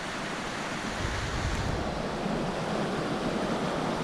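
Swollen Río Mixteco in Oaxaca rushing beneath a suspension bridge after a dam collapse, a dense, continuous roar of turbulent water with wind buffeting, steady and loud with no talk.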